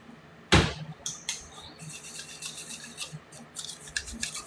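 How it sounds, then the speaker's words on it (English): A knife trimming fat off steaks, with an initial sharp scrape followed by a run of soft, uneven rasping and scraping strokes close by. "I am going to trim some of the fat"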